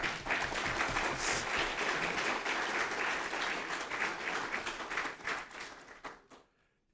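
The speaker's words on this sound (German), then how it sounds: "Ihm dürfen Sie jetzt klatschen." Audience applause at a German conference on digital remembrance culture, a dense, steady round of clapping that fills the room for about six seconds before tapering off into quiet.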